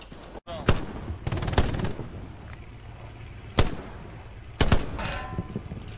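Gunfire in the video game Battlefield: sharp shots and short automatic bursts that come in separate clusters, loud and close, with quieter gaps of ambient battle noise between them.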